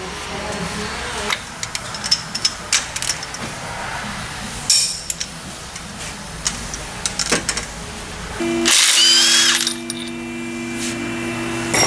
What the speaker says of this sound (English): Put my harmonic balancer bolt in.